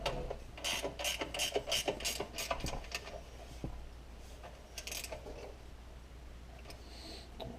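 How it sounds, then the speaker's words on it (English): 10mm combination wrench with a ratcheting box end clicking on a Briggs and Stratton engine, rapid bursts of close metallic ticks, then quieter sparse clicks, no talk. "It's got a ratchet on the box end. Great wrench."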